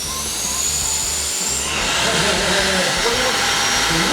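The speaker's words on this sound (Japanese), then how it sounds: "スティッククリーナーで初めてゴミ自動吸引スタンドが搭載された商品なんですよね" A cordless stick vacuum's automatic dust-collection station empties the cleaner with a loud, steady whooshing suction roar that brightens and intensifies partway through, close up and unbroken.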